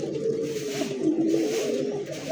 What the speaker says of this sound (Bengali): এটা কিন্তু উড়ান না কবুতর, ঘিয়া চুল্লি কবুতর, সোয়া চন্দন কবুতর